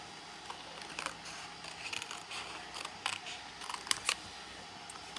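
Scissors roughly cutting paper pieces for die cutting at a tabletop, a run of close, crisp snips and rustles in uneven rhythm, alone and fairly quiet.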